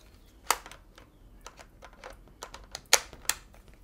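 Godox MF12 flash units click onto a mounting ring in a series of sharp plastic snaps and taps, irregular and close, with two louder clicks standing out among softer handling noises.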